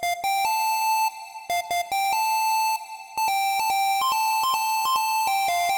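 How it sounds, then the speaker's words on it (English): A bright synth lead melody programmed in FL Studio for a pluggnb hook, playing short and held notes of varied length with brief gaps, up close and alone. "Then for the hook, I added a synth melody."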